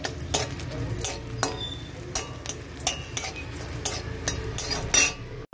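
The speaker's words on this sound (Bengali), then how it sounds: "আমি পেঁয়াজ ভাজা রসুন আর তেলে লঙ্কাটা দিয়ে দিচ্ছি। লঙ্কাটা ভেজে নেব।" Green chilies fry in oil with fried onion and garlic, a soft sizzle under repeated sharp clinks and scrapes of a metal spatula stirring in the pan, close and fairly loud.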